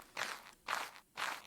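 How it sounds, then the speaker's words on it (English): Three evenly spaced, soft crunching footsteps from meeples in a Unity video game cinematic, each a brief gritty scuff with clear gaps between them, moderately close and quiet. "I'm getting the footstep sounds from the meeples"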